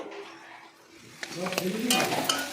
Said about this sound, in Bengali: আরও দেখো ভালো করে ভেজে ভেজে নিচ্ছি